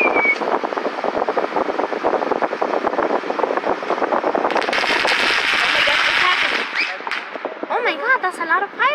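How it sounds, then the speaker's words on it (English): Dense, rapid crackling bursts of fireworks going off nonstop, loud and close, with excited voices and whistling shells rising near the end. "That's a lot of fireworks."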